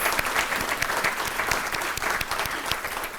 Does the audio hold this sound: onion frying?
no